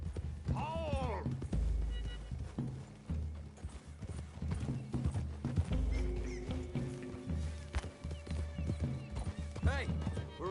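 Steady clip-clop of horse hooves in Red Dead Redemption 2 with an occasional whinny, set under voices talking and a soft musical score.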